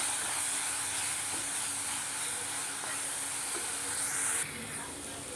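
Tomato sautéing in a pan with turmeric, chili powder and coriander powder for a Chettinad fish curry, giving a steady, even sizzle and hiss that runs throughout and softens slightly near the end.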